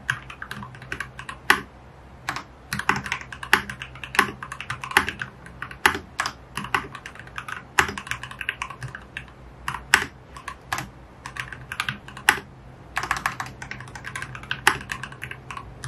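Typing on a Dustsilver Kawaii Bunny mechanical keyboard fitted with red switches: soft, irregular clusters of key presses and short pauses, fairly quiet and close, with no talking.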